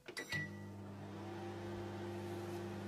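A microwave oven starts with a few quick clicks and a beep, then settles into a steady, low electrical hum with a faint whirring drone that continues evenly.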